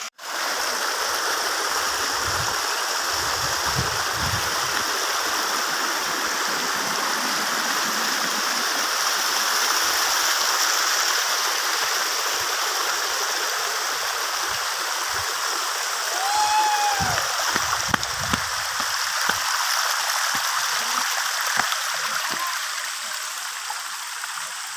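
Steady rushing water from Kallaru Falls near Salem and its flowing stream, constant and close, with a brief faint bird call partway through.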